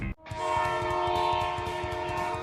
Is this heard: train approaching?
yes